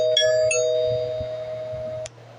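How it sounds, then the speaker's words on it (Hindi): A two-tone doorbell chimes once, bright and clear, its ring sustaining and then cutting off, with a faint low hum beneath. "अरे घंटी बजी, जाओ देखो, दरवाजे पर तुम्हारी बहन आई होगी।"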